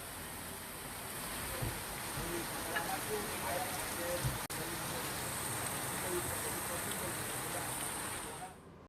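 Heavy rain in Dabhoi taluka near Vadodara, a dense, even hiss of rainfall on surfaces with scattered drop splashes, steady and moderately loud throughout before cutting off at the end.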